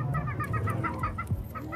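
Several chickens cluck nearby in quick, overlapping bursts, one call rising at the end.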